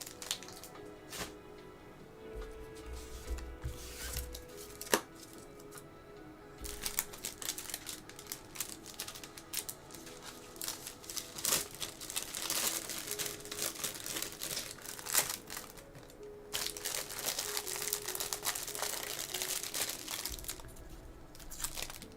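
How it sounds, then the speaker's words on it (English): Plastic packaging crinkles and crackles over and over as trading cards are handled up close, forming a steady run of crisp rustling with brief quiet gaps and no talk. "Sorry for all the crinkling."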